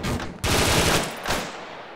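Gunfire in the video game Arma 3, a loud, close burst of rapid automatic shots followed by a second shot and a fading reverberant tail.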